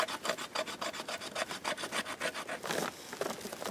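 Bear Forest Knives GT-EDC knife with a sharpened 90-degree spine carving fluff from wood: a rapid run of about a dozen close, even scraping strokes, steady and rhythmic, with a slight pause near the end.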